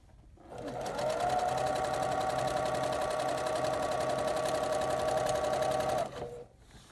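A sewing machine runs a quarter-inch seam around a mitered corner of a pinwheel quilt, a steady close whir lasting several seconds before stopping abruptly, with no talking.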